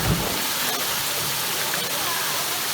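Rushing water at Imbert Waterfalls pours in a steady, loud, broadband roar, with voices of people sliding down the falls partly audible beneath it.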